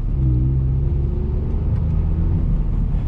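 A Fiesta ST with a TRS Stage 1 tune, in racetrack mode, pulls away on the road with a loud, steady engine drone and low rumble, heard from inside the cabin, alone without talk.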